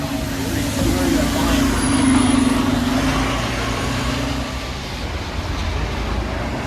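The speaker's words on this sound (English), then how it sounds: "This is A1 bus. It goes to Bristol bus station" An A1 bus in Bristol idles and moves nearby with a steady low engine rumble and broad road noise that fades slightly toward the end.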